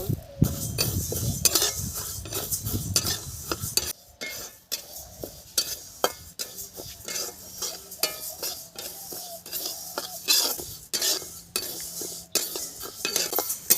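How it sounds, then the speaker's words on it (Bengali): Lentils are dry-fried in a wok, with a metal spatula repeatedly scraping and clinking against the pan in uneven rhythmic strokes, close and clear, over a faint background sizzle. "এখন ডালগুলো ভেজে নেব"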